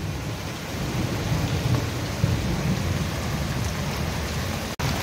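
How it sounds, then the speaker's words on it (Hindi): Heavy thunderstorm rain pours steadily over a flooded town street in Sujangarh, a dense continuous roar of downpour with low rumbling thunder underneath and a brief dropout near the end. "देखिए, बहुत तेज बारिश हुई है।"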